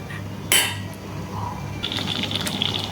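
Thickening cornflour pomegranate pudding bubbling in a pan as it is stirred, with a sharp clink of a spoon against the pan, then soft popping and bubbling with light scraping, close and fairly quiet.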